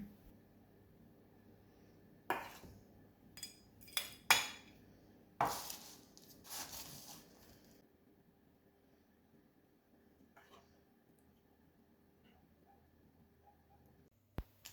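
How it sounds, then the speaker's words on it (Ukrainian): A spoon clinks and scrapes against a glass several times in quick irregular taps while layering custard cream and crumbs, close by, then quiet with a final tap at the end. "На дно стакану викладаю 1 столову ложку заварного крему, зверху столову ложку крихти"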